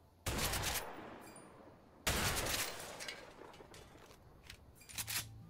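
Sharp gunshots ring out in A Way Out as empty houses are fired on, two loud cracks with long echoing decays followed by fainter, scattered shots in an open outdoor space.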